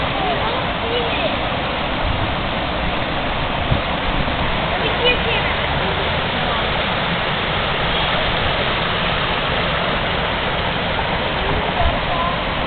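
Water rushes steadily through Town Brook in Plymouth, Massachusetts, at a herring fish ladder. The dense, constant flow sounds close and loud, with no break.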